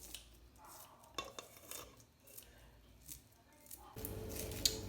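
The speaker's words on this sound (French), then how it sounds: "Quand je finis au ciseau," Scissors snipping in a home kitchen while sauce chien, a Creole sauce for grilled meats, is prepared, with a few sharp, close snips among faint clinks of dishes and utensils.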